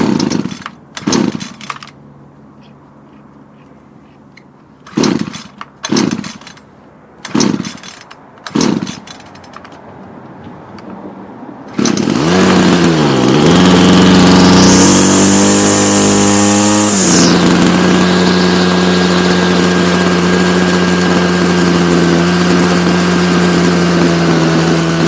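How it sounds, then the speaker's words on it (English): Ryobi CS26 two-stroke weed wacker engine, a recently replaced carburetor with new fuel lines, coughs through several pull-start attempts, then fires and runs loud and close, revving up and settling back to a steady idle as the throttle is adjusted. "Let's get fired up. We're going to try and adjust the throttle on this."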